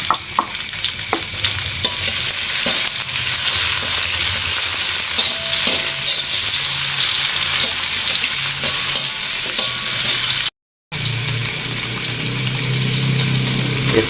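Tomato and chili sautéed in a pan give a loud, continuous sizzle with stirring scrapes, briefly cutting out near the end before resuming.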